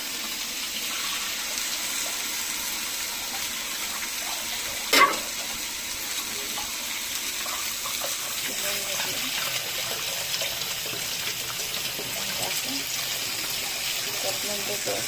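Tap water runs in a steady, close, broadband rush while vegetables are rinsed in a home kitchen, with one brief clunk partway through.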